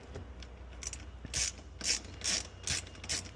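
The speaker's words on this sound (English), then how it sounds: "you're going to grab your ratchet with your 10mm socket head" A ratchet with a 10mm socket loosening a bolt on a GK200 disc brake assembly: several short bursts of rapid metallic clicking, close and fairly crisp, repeating about every half second with quiet gaps between, no talking.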